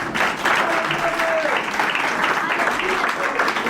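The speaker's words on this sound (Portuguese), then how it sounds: "Pode sentar e bater as palmas bem forte para o Senhor Jesus." Church congregation applauding loudly during an evening service, a dense, steady wash of many hands clapping that fills the whole moment, with a faint tone and stray voices mixed in.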